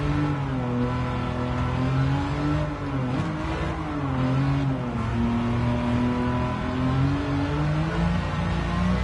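Turbocharged race car engine in Gran Turismo 7 holds a sustained drone that rises and dips in pitch with a light whistling hiss above it, steady and up close throughout.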